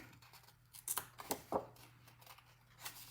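Scissors cutting paper for a Christmas tree treat box ornament, a few quiet close snips in quick succession, with short pauses between cuts.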